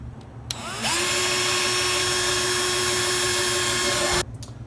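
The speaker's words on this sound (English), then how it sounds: "Holes are drilled." A power drill bores holes in a turtle tank, one loud continuous high whine lasting about three and a half seconds, starting abruptly and cutting off sharply, with nothing else audible.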